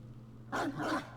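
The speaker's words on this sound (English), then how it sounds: "So yeah, it will bark. It does bark a lot in mission too." Dog companion in the Warframe video game barks twice in quick succession, close and fairly loud over a quiet humming game background.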